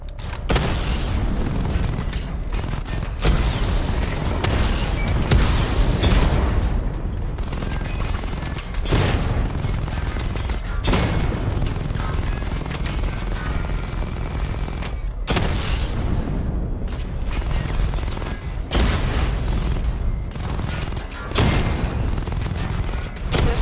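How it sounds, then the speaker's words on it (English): In Batman: Arkham Knight, Batman's missile barrage fires in rapid volleys of booming, crackling blasts, dense and loud, with brief gaps between bursts and no speech. "Charge the missile barrage to level 2 to destroy up to 4 targets at once"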